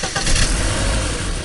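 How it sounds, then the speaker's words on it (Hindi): A taxi engine cranks and catches, then roars loudly and steadily with no talking over it. "चाबी घुमाई, इंजन गरजा"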